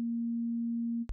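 A pure synthesized sine tone from the Vital synth holds steady and clean for about a second, then cuts off abruptly into a brief broadband click and a low thump.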